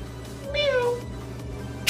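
A person imitates a cat with a single drawn-out, falling meow, close and clear over a quiet background.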